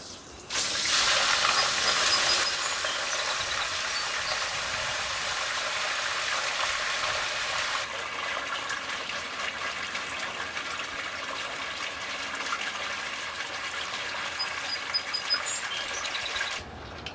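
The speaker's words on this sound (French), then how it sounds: "On enlève le drain pour enlever l'eau de dedans." Water gushes and hisses steadily as it drains out of a pool cartridge filter housing, close and continuous, with a brief louder surge at the start.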